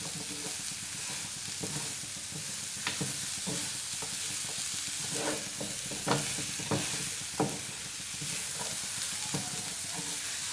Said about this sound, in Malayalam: ഇനി ഇതിലേക്ക് നമുക്ക് ഒരു സവോള നല്ല ചെറുതായിട്ട് മുറിച്ചത് ഇട്ട് കൊടുക്കാം. ഒന്ന് ഇളക്കി കൊടുക്കാം.